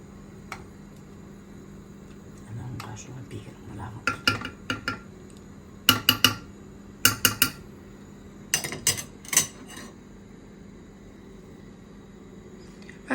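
Walnuts tumble into a cooking pot while Gilani anar bij is made in a home kitchen, several bursts of hard clattering knocks against metal over a quiet background, with a few lighter taps earlier.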